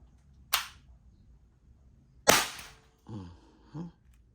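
Umarex T4E TR50 gun firing outdoors: two sharp, loud cracking reports about two seconds apart, each decaying quickly, followed by a couple of faint, brief vocal sounds.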